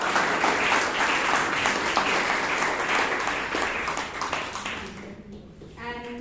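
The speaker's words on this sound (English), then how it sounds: "let's give a big round of applause" An audience at a Toastmasters meeting in Bangalore claps in a dense, sustained round of applause that fades after a few seconds as a voice begins speaking.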